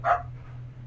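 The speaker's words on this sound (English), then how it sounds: "that is a dog" A dog gives a single short bark right at the start, then only a low steady hum remains.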